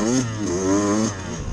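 A Beta off-road motorcycle engine revs at a demo ride day, rising and holding a buzzing, up-and-down whine close by over steady engine drone, with no talk.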